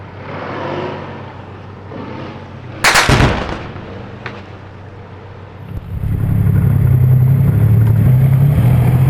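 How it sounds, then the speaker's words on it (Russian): A tank in urban combat in Jobar, Syria, fires a sharp, loud blast from its main gun, followed by a quieter report, then a heavy diesel engine rumbles up steadily as the vehicle moves, with no machine-gun burst clearly distinct. "Очередь из пулемета и выстрел из основного орудия."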